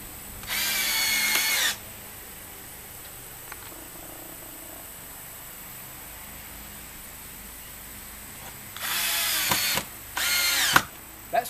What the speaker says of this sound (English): I've got a good strong bite with these big long screws